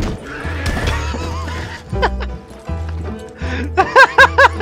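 A horse in Red Dead Online whinnies and neighs loudly and close by, with repeated sharp high whinny bursts toward the end, amid game sounds.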